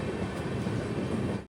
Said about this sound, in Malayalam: 3:41 തെനാലി ജംഗ്ഷനിലേക്ക് ഇതാ ട്രെയിൻ എത്തുകയാണ്.